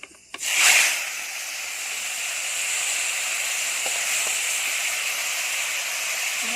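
Fish hits hot oil in a pan with a sudden loud sizzle, settling into a steady, bright, continuous frying hiss that holds on alone with no talk.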